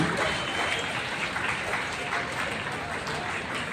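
A crowd applauds loudly at a Dreamers Day school event, many hands clapping in a dense, sustained roar that holds steady throughout, with voices mixed faintly into the clapping.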